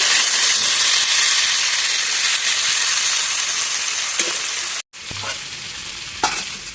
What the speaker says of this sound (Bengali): অল্প ভাজা ভাজা করে নেব।